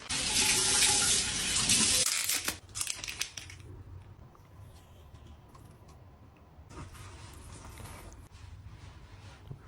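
Steady water streams from a shower, a loud broadband hiss that cuts off after about two seconds, leaving a few clatters, then resumes more softly near the end with no talking.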